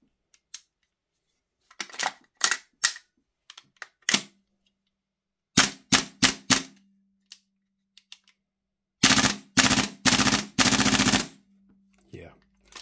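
A Tokyo Marui MWS gas airsoft rifle with a P-Mag fires in sharp single shots and short bursts, close and loud, with near silence between them and a rapid string of shots near the end.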